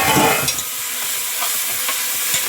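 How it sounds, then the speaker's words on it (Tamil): Mint and coriander leaves sautéed in a pan for mushroom biryani give a steady close sizzle with occasional stirring scrapes, loud at first and then settling into an even fry. "எல்லாத்தையும் போட்டுடலாம் போட்டு நல்லா வதக்கிடலாம்"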